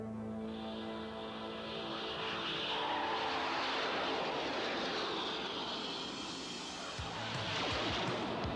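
In an animated series, an aircraft engine drones loudly overhead in a sustained swelling roar with a steady tonal hum underneath, building and shifting as it passes, with no voices.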